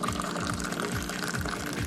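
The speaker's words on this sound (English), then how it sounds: "there is an art form as well to pour in Moroccan tea. The highest, the better" Moroccan tea poured from a height into a glass, a steady close liquid stream splashing and gurgling continuously throughout.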